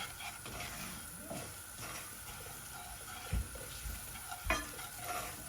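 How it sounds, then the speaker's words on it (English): Coconut curry lobster being stirred in a pot over low heat: a soft, steady sizzle with quiet scraping, broken by a couple of sharper knocks of the utensil against the pot. "Now I just want to stir it up in there."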